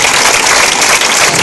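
Loud, dense audience applause at an inauguration evening where a Latin dance group is introduced, a continuous roar of clapping at full level throughout.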